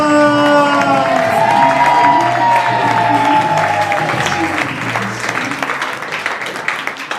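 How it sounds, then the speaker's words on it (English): A loud comedy-show audience applauds and cheers to welcome the host, with whoops and shouts over continuous clapping that slowly fades a little. "please give a round of applause for your host, James Quesada!"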